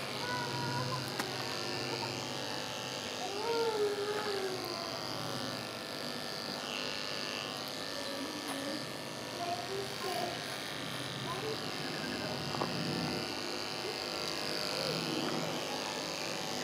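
Electric clippers buzz steadily while trimming a pony's tail, a continuous close-up drone with slight shifts in pitch as the blades move through the hair. A person talks over the buzzing.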